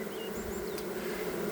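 Honeybees fan their wings at a Dadant hive, making a steady close drone with a few higher buzzes from individual bees passing nearby.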